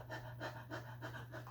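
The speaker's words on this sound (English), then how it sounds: "Does anyone know why dogs pant?" A dog pants on a hot day, fast rhythmic breaths in steady bursts, close and fairly quiet over a low constant hum.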